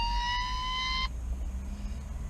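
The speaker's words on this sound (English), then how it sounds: "Sorry about that. That's my alarm." A laundry machine alarm beeps with a single sustained electronic tone that cuts off abruptly, leaving quiet room noise.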